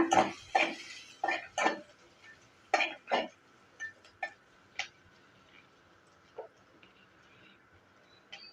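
A spoon scrapes and clinks against a pan of egg pepper rice with chilli in a quick burst of strokes, then slows to a few scattered taps, close by with no talking.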